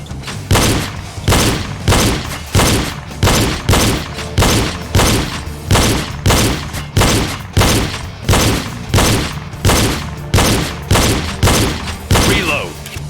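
Pistol gunshots fired in a timed shooting drill, likely from a video game: about sixteen loud, evenly spaced shots ring out with a steady rhythm, each followed by a short booming tail.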